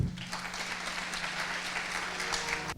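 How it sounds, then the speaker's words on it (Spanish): A crowd applauds steadily, a dense wash of clapping that holds at an even level for about three seconds and then cuts off abruptly. "Demos por favor un fuerte aplauso a Hernando Muñoz Sánchez."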